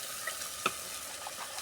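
Onions and spices fry in a pan for fish curry, a quiet continuous sizzle with one short scrape of stirring partway through.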